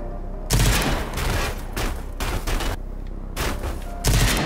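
Rage 2 pistol fire at a refueling station, loud bursts of rapid shots in several separate volleys with short pauses between them, close and punchy.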